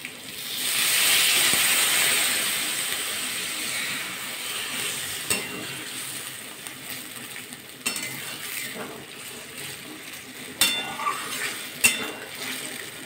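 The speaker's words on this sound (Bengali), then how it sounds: "এবার জল দিয়ে দেবো।" Water poured into a hot pan of Bengali egg curry, bursting into a loud hissing sizzle that settles into a softer simmering bubble, with occasional clinks of a utensil against the pan.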